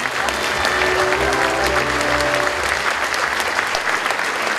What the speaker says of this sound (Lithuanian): Plojimai, paplojame.